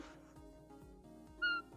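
A cat meows in a video game, one short bright mewing call rising clearly over a quiet, steady game soundtrack near the end.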